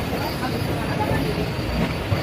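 Steady rumbling interior of a sleeper coach on the Nauchandi Express 14242 during August heat, a continuous rolling train drone with faint indistinct voices mixed in.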